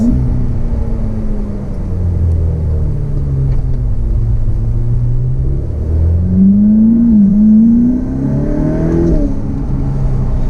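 A Ferrari F8 Spider's engine rumbles loudly from inside the car, its pitch sliding down then rising sharply with a quick blip during a downshift, steady throughout and without talking.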